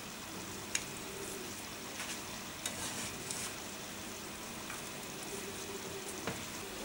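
A homemade tortilla cooks in a pan with a faint, steady sizzle and a few soft ticks and pops scattered throughout, no voices.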